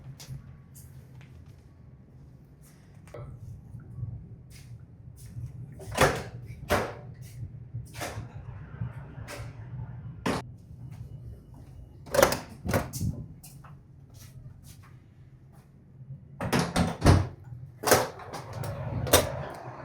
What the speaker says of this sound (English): Well, a door.